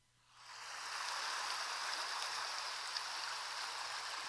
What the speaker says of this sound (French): c'est une rivière.